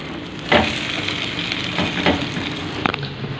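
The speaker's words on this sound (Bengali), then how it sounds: "আর এখানে করছি ডিম ভাজা, আমার মিনি কড়াই এটা।" An egg frying in a small mini wok, a soft steady sizzle with a few sharper crackling spits and stirring scrapes, close and moderately quiet, no talk.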